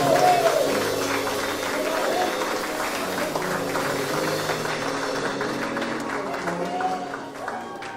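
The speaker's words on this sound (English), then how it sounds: "Come on, clap and stand up for Quinn Garrett." A congregation claps in a chapel service, a continuous dense wash of hands with voices and a tonal hum underneath, fading slightly toward the end.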